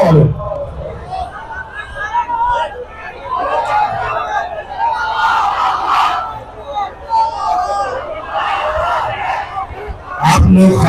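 A large rally crowd bellows slogans in unison in repeated call-and-response bursts, a dense roar of voices with a reverberant outdoor hubbub under it and a loud shout at the end.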